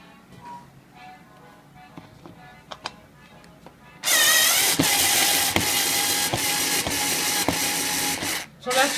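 Power drill backing screws out of a dining chair cushion, a loud buzzing whir that starts abruptly and runs for several seconds with small clicks and pulses, following quieter handling noises, up close in a room.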